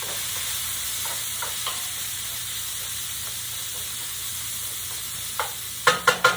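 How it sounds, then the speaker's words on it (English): Vegetables cook in a pan, a steady soft sizzle with light intermittent scraping, then several sharp spatula knocks against the pan near the end. "Give that a little stir."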